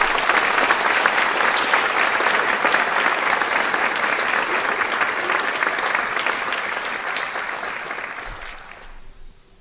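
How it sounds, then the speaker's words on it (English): Sustained applause from a large crowd at a high school senior awards night, loud and steady before tapering off near the end. "How about one more really big round of applause for all of our vote recipients?"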